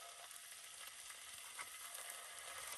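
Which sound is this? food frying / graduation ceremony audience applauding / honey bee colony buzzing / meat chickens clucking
food frying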